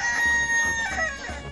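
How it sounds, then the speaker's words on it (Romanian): A rooster crows loudly and close by in one sustained, tonal call that fills the short moment, with no talk over it. "Cocoșul a cântat."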